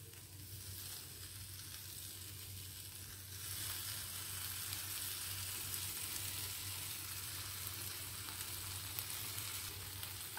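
A bread cheese pudla sizzles steadily on a hot pan. The frying hiss holds continuous and even, swelling slightly partway through as the pudla is flipped, with no talk over it.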